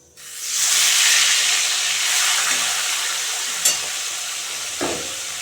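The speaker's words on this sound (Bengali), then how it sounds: "তো বন্ধুরা ট্যাংরা মাছগুলো হালকা করে আমি বেজে নেব" Small tengra fish dropped into hot oil in a pan, a sudden loud sizzle that swells into steady hissing frying, close, with a couple of faint clinks of stirring and no talk.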